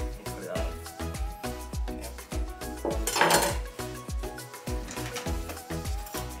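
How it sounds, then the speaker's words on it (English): A metal spoon scrapes and clinks against a bowl or avocado skin while scooping out avocado flesh for guacamole, a run of quick rhythmic taps and scrapes, close and fairly quiet. "we're going to go ahead and remove the avocado with a spoon, just like that"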